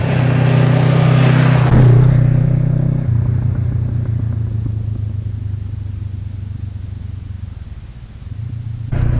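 A Honda CB500X motorcycle ridden along a road, heard as a loud, steady engine drone close by that eases and dips slightly before picking up again at the end.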